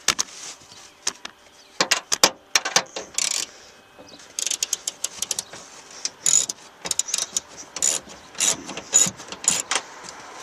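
A ratchet loosens a bumper mount bolt on a Grand Prix under rebuild, giving close, loud bursts of rapid clicking separated by short pauses, with metallic clinks between them.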